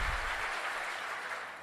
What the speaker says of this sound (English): that's really worth an applause